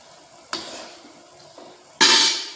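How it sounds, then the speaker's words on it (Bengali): Ghee and lime juice being stirred into hot sugar syrup for jilapi, a short scrape near half a second, then a louder sizzling, bubbling burst at two seconds that carries on to the end, with no voices. "ঘি আর পাতিলেবুর রসটা খুব ভালোভাবে মিশিয়ে নিচ্ছি"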